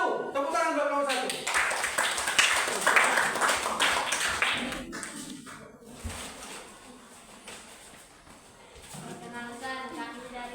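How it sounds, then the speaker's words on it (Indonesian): A class of sixth-grade pupils at a private primary school claps for a group about to present, a steady crackle of many hands indoors, mixed with voices and fading toward the end as talk resumes. "Tepuk tangan buat kelompok 1"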